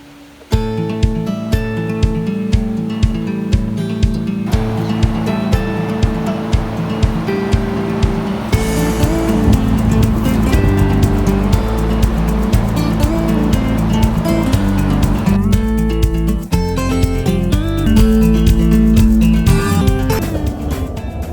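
A vehicle on the road towing a livestock trailer gives a steady, loud low rumble of engine and road noise that runs unbroken for the whole stretch, with no talk.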